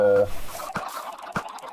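Chickens in the Minecraft video game cluck in a short burst at the start, followed by a few soft clucks and scattered quieter bird noises.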